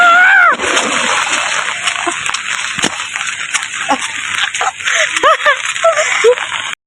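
Feet splash and slosh through standing rainwater after three to four hours of rain in Nanded, close and uneven splashes scattered throughout, with voices talking in between.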